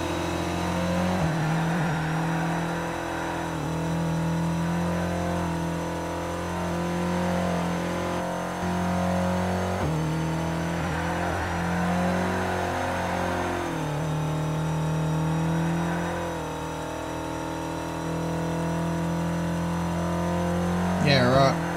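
V8 Supercar engines drone and rev steadily in TOCA Race Driver during racing and drifting, with a sustained harmonic whine that dips and shifts as the cars slide through corners, loud and continuous throughout, ending in a brief burst of noise.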